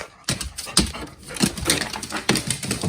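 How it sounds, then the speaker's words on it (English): A dog whimpers and whines excitedly at the sight of small green packages, in close, repeated bursts of high-pitched whining and yelping that run for a few seconds in an indoor room. "I'm just going to give you a little taste of what life is like when our dog sees the little green packages in my arms."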